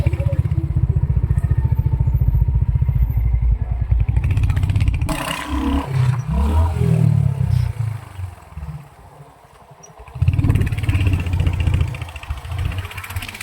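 Motorcycle engine labouring uphill in low gear on a steep rural slope, a steady loud drone that fades and dips midway, then swells again with rising revs, close to the rider and without talk.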